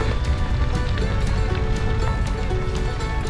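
Rain falls during a ride through the humid Midwest with thunder nearby, a dense, loud, continuous patter, with faint rhythmic thuds running under it.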